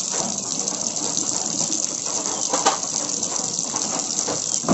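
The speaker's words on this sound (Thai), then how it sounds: "เอาเห็ดมาล้างครับทุกคนนะเห็ดที่เราได้นะครับ" Mushrooms rinsed under running water while cooking outdoors in a hill-village kitchen, a steady close gush of water with light rattling and splashing throughout.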